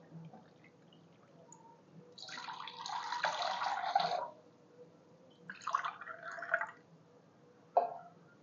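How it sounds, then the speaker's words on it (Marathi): Cold water from a clay pot pours into a glass in two short bursts, a longer stream then a briefer one, followed by a faint clink, close and quiet. "आपल्याला दोन ग्लास पाणी घ्यायचं आहे आपल्याला माठातलं थंडगार पाणी घ्या"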